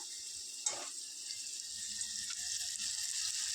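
Tomato and onion frying together in a pan, a faint, steady sizzle with one brief scrape or clink early on, no one talking.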